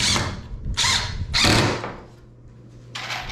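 A power drill drives wood screws into a twin bed frame, giving three loud close whirring bursts in quick succession and a fourth starting at the end, with a low steady hum between them.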